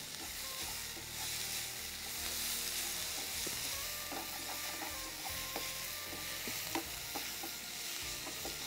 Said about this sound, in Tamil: இப்போ இது நல்லா வதங்கிட்டுருக்கு